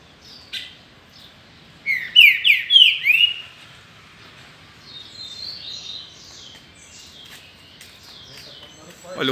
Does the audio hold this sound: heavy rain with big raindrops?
no